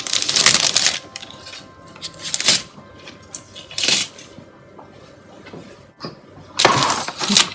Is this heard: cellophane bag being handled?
yes